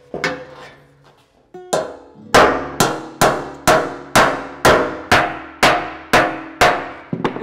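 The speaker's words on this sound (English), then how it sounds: "I'm just gonna try and kick as much of that out with this high crown hammer as I can on the sandbag." A high crown hammer knocks a dent out of sheet metal laid on a sandbag: about a dozen sharp, ringing metallic blows at a steady beat, close and loud, after a few lighter taps.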